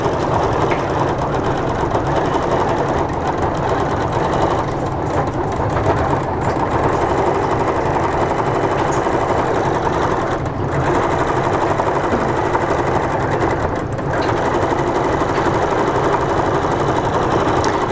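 A quilting machine on a Grace Qzone hoop frame stitches down a quilt edge with a loud, continuous, rapid mechanical whir. The rhythm stays steady, with a couple of brief dips where the stitching pauses.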